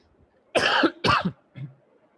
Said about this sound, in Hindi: थोड़ी सी खांसी में आ रही है, गला थोड़ा सा ख़राब है मेरा